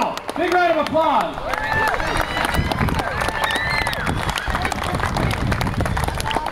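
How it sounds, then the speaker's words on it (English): A crowd breaks into lively clapping and cheering over several seconds, with dense overlapping claps and whoops and people talking and shouting close by. "Big round of applause!"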